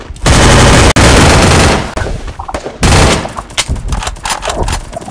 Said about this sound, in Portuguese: Muito tiro lá na escada.